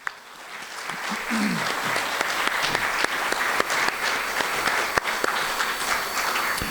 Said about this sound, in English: allow us to give you one well-deserved big round of applause